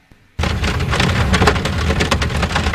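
Heavy rain drumming on a car at night while driving, starting abruptly after a brief near-silence and then holding as a dense, loud, steady hiss with scattered sharper drops.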